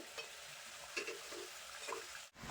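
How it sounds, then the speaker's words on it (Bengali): Bengali goja sweets deep-frying in hot oil, a steady soft crackle and sizzle with a few small pops, heard up close with no talking. "এভাবে আমি আস্তে আস্তে লাল লাল করে ভেজে নেবো"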